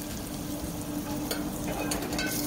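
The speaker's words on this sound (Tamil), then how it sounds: "கொஞ்சம் அப்படியே வதக்கி விட்டுக்கோங்க இதோ லைட் ப்ரௌனில் வர்ற மாதிரி கொஞ்சம் நீங்கள் வதக்கி விட்டுக்கணும்" Something sautéing in a pan until light brown while preparing nonbu kanji, a steady close sizzle with light stirring scrapes running throughout, no voices present.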